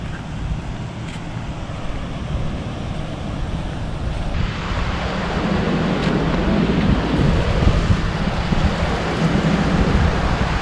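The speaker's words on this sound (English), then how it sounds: "Let's see the sea, some choppy waters." Steady rushing surf and wind noise from a choppy sea at Cabo Pulmo, Baja Mexico, swelling louder as rough water churns continuously with no voices.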